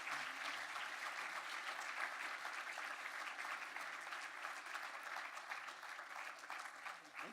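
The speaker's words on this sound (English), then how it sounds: "Clap again." An audience clapping at the close of a discussion event on meat and food production, a steady, sustained wash of many hands applauding, distant and fairly quiet, continuing evenly without pause.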